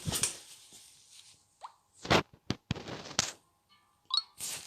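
A chair shifts and scrapes as someone seated on it moves, giving several short knocks, thumps and creaks in an uneven cluster, close and fairly loud, with brief quiet gaps between.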